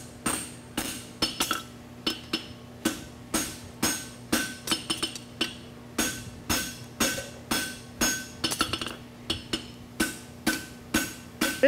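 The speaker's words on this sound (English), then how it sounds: "Now this hammer is going to hit the back edge and pull towards you." A steady run of sharp metallic hammer blows on a horseshoe on an anvil at a blacksmith championship, about two a second, each ringing briefly before the next, close and loud.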